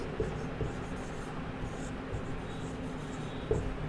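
Someone writes on a board during a Hindi grammar lesson. Close, continuous scratchy strokes are broken by a few light taps.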